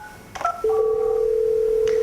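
A ShoreTel ShoreGear phone system plays a short series of electronic tone blips followed by a sustained steady ringing tone for an incoming call, clear and close.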